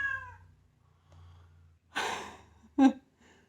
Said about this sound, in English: she's just standing like half a meter away from me, meowing into the wrong direction